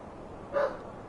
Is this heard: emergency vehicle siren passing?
no